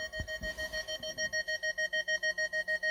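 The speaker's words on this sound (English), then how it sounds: "Turn off the annoying parking sensors." Parking sensors on a Ferrari FF beep in a fast, even series of sharp electronic tones, close and loud, speeding up slightly near the start and then holding a steady rhythm.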